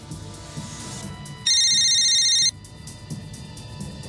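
A telephone rings once in a police station, a loud electronic ring of about one second that cuts in over low background noise and then stops.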